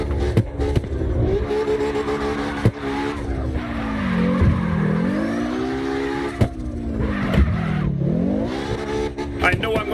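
Car drifting and skidding in CarX Drift Racing Online, with a loud, continuous engine drone rising and falling as the car swings through repeated slides, tire squeal and occasional sharp knocks mixed in, under someone talking.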